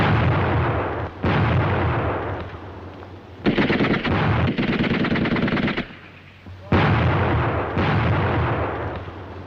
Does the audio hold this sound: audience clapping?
no